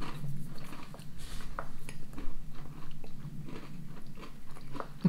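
Thick, buttery Fox's biscuits are bitten and chewed close up, with repeated soft crunches and mouth sounds in an irregular rhythm, no talking.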